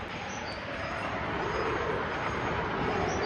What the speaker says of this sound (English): Here we go on the train.